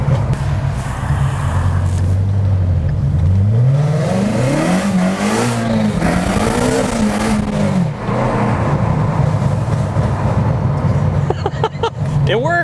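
A car engine revs loudly from inside the cabin, pitch sweeping up and down through several rising and falling revs, with sharp exhaust pops near the end and a voice talking over it.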